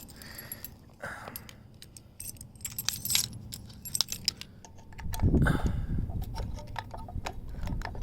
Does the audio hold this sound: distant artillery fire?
no